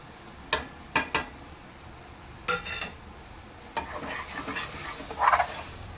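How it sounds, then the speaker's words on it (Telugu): Chilli powder, coriander and cumin powders frying in a pan for a fish tamarind stew, a low sizzle broken by sharp spoon-on-pan clinks and scrapes, then a busier rustling stir toward the end, close by. "కారం కూడా వేగుతుంది కదా"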